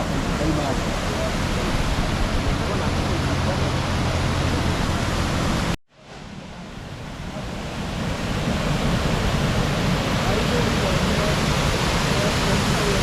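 A waterfall in Githunguri, Kiambu, Kenya, roars as a loud, steady broadband rush close by, briefly cut off midway before the dense water noise returns just as strong.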